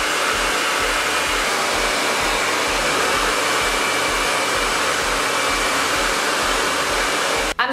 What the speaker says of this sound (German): Ich stelle es auf die niedrigste Stufe und föhne mal ein bisschen drüber.